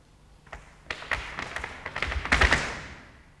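Irish dance footwork on a hard floor during a lesson, a run of sharp taps and heavy thuds building to a loud stamp cluster near the end, close and clear with no talking.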